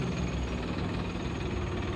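A tractor engine idling outdoors, a steady low rumbling drone with even knocking vibration, close and unbroken, with no talk over it.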